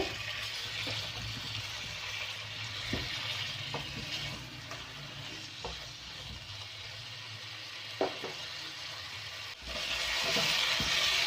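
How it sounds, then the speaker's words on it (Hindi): Baby potatoes cooking in a pan with brown sugar and salt give a steady low sizzle, with occasional soft clicks from stirring and a louder bubbling rush near the end. "थोड़ा सा इसको ब्राउन शुगर के साथ हम पकाएंगे।"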